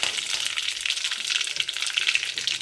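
Mustard seeds, cumin, curry leaves and bay leaf crackle and sizzle in hot oil in a pan, a steady loud hiss with dense popping throughout, close by, no voices.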